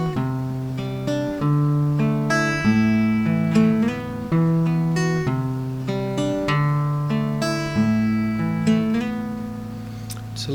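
Clean guitar plays a slow progression of ringing add9 chords, notes sliding between shapes, steady and unhurried with no voices.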